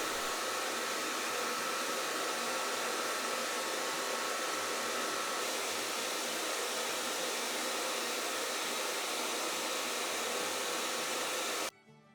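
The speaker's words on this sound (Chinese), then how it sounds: "这是2个吹风机对着吹。" Two hair dryers aimed at each other produce a continuous, loud, dense roar that holds steady throughout before cutting off abruptly at the end.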